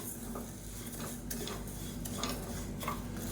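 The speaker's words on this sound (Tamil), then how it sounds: "இப்போ இதை வந்து நம்ம கொஞ்சம் கொஞ்சமாக சேர்த்து வறுத்து எடுத்துக்கலாம்" Traditional Kattuyanam, Karunguruvai and Thanga Samba rice dry roasting in a pan, faint rustling stir with scattered light ticks and scraping of grains against metal, quiet and close.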